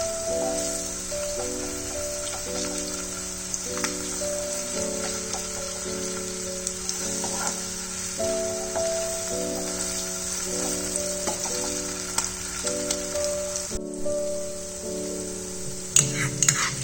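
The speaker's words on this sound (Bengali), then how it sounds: "মশলাটা যতক্ষণ ফ্রাই হয়েছে" Ginger and garlic paste masala frying in a pan for begun bharta, a continuous bright sizzle with steady crackle and occasional stirring scrapes, close and alone.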